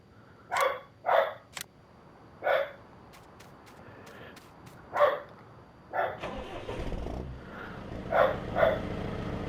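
Farm dog in Farming Simulator 19 barking in short, clear bursts, some doubled, spread across the clip, with a low engine rumble joining partway through.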